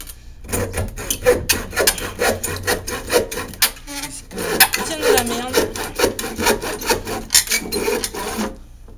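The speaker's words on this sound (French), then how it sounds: "si vous avez déjà essayé de scier de la palette, mais c'est vraiment de la daube, surtout avec une scie égoïne" A hand saw rips back and forth through pallet wood in quick, uneven rasping strokes, loud and close, with brief pauses between bursts.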